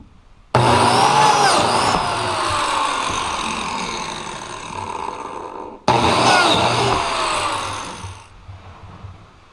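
A power saw blade plunges into wooden boards, cutting glue slots for a chicken coop build; a loud continuous whine runs for about five seconds, breaks off, then starts again and winds down, with no talking.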